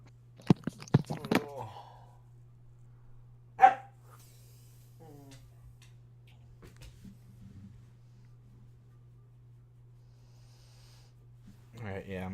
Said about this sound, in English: I'm gonna run the dog out real quick, so maybe he'll stop making as much noise